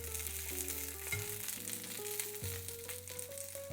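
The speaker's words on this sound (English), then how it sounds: "We're gonna add our tomatillos, jalapenos, and our garlic. And we're just gonna heat these up until they're slightly brown." Tomatillos, jalapeños and garlic sizzle steadily in a hot pan, a continuous close hiss that runs throughout with a melodic music track playing underneath.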